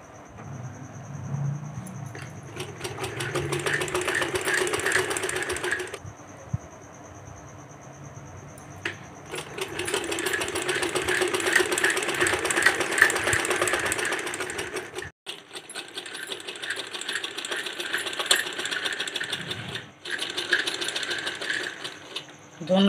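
Sewing machine stitching small lace trim around the hem of fabric, running in several rapid, steady bursts separated by short pauses, close and fairly loud.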